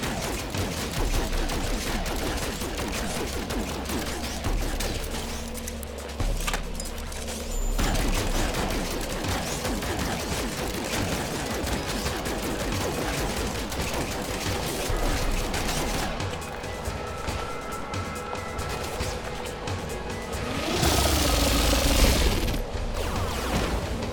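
Sustained rapid gunfire in the No Man's Sky video game during a fight against Sentinel quads, dense and loud throughout, with a heavier burst near the end.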